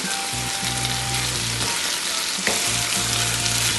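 Curry leaves crackle loudly in hot oil with pieces of chicken in a pan, a dense, close, continuous sizzle with a few stirring scrapes under it.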